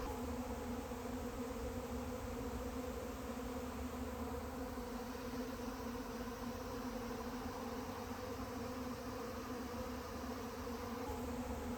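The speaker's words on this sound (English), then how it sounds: "I'm gonna take a minute to just breathe and enjoy the bees and enjoy the hum" A honeybee swarm of about 140,000 bees hums continuously at low volume, an even buzzing drone with layered tones that holds steady from start to finish.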